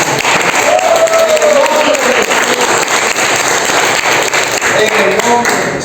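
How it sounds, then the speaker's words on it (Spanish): A church congregation claps loudly and steadily for the whole stretch, a dense wall of applause with a few voices mixed in and no pause. "Si tú crees que se acerca un milagro a Venezuela, dale un aplauso fuerte."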